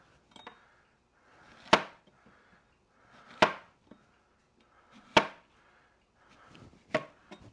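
A new knife chops through squash in four evenly spaced, crisp thunks on a cutting board, each preceded by a soft slicing scrape, close and clear with quiet pauses between.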